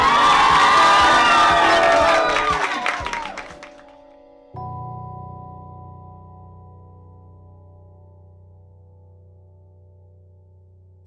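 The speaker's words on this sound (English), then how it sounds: "Please give plenty of applause." A crowd at a drag performance cheers, shouts and applauds loudly for a few seconds, with high excited voices mixed in. The noise stops abruptly and gives way to a low sustained hum and tone that slowly fade.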